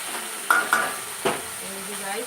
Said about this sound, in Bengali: আমি লো ফ্লেমে মশলাটাকে একদম কষাচ্ছি